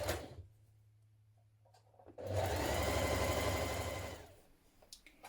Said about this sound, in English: Now we're going to stitch that in place.